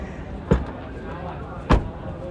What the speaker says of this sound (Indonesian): Termasuk suara nutup dari bagasinya tidak terasa seperti mobil di bawah 300 juta.